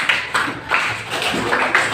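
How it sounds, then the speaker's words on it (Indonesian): A classroom of students claps in short irregular bursts for a classmate, the slaps close and uneven, with no talking over them. "Tepuk tangan untuk Aisyah, nak."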